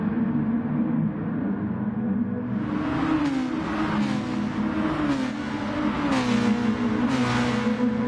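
Race cars contest the final two turns at the Red Bull Ring, their engines droning and revving loudly in a steady layered roar, with pitch rising and falling as the cars shift and accelerate, close and continuous throughout.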